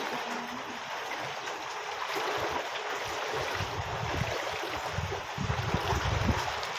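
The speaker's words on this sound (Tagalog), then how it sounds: "Sumampa na yung tubig." Rising floodwater during Typhoon Egay, a continuous rushing, gurgling flow with wind buffeting, close and moderately loud, with no one speaking.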